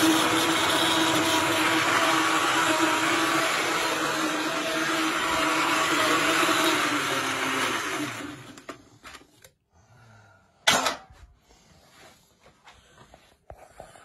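A blender whirs steadily for about eight seconds while mixing a Jaywick smoothie, then cuts off abruptly, followed by a few faint clunks and a single sharp knock.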